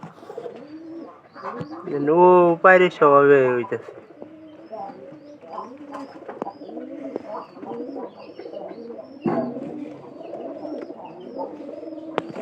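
A domestic pigeon coos softly at close range, repeated low throaty calls, with a person speaking over and between the coos.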